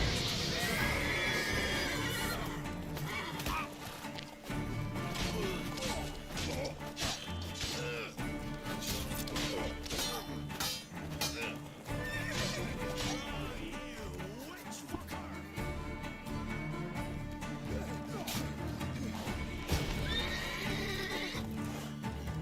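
Roach, the horse in The Witcher 3, gallops with rapid clip-clop hoofbeats and lets out loud neighs and whinnies amid combat clashes, close and busy throughout.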